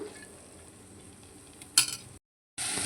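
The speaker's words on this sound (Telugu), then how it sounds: "ఇప్పుడు ఒక 1 మినిట్ ఈ పప్పును ఇలా దీంట్లో ఫ్రై చేసుకోవాలి." Moong dal fries in a pan with a soft sizzle and stirring clatter, a sharper scrape near the end, then a brief silence before the sizzling hiss returns louder.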